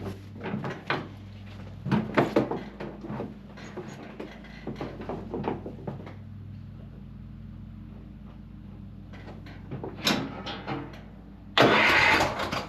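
A Cub Cadet engine cranking over on a new starter gives several bursts of whirring cranking separated by pauses, with clunks around them and a louder final burst at the end; close and loud, no speech.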